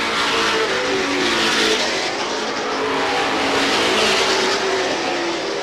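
Stock cars roar down the front straightaway at Star Speedway in 1991, a loud, sustained engine drone with rising and falling revs as the racing pack passes close by.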